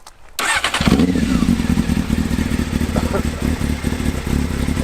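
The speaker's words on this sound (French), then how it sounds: "Voilà le bruit de la ligne Leo Vinci carbone." A Honda Hornet motorcycle fitted with a Leo Vince carbon exhaust starts up close by and settles into a steady, throaty idle with some mechanical clatter.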